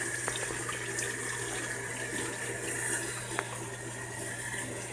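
Water runs steadily from a tap while bleach is rinsed out of a hair closure, a constant soft rushing wash with faint splashes, moderately quiet and uninterrupted, no talking.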